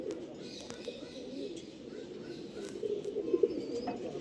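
A green Bagha pigeon at a breeding loft gives soft, low coos, faint and close, against a quiet background hum.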